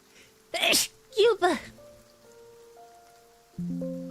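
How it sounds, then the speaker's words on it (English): A woman sneezes once, a short loud burst close to the microphone, followed by brief vocal sounds and quiet tones. "Sneeze."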